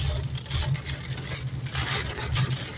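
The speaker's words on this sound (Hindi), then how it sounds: "तेज बारिश हो रही है" Heavy rain pouring in Madina, a dense continuous wash of noise over a low rumbling hum, steady and close with no pauses.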